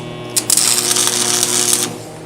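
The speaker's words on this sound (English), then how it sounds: "Now I'm gonna weld it here" A steel plate is welded onto a steel welding table, giving a loud, steady crackling buzz that starts abruptly, holds for about a second and a half, then cuts off.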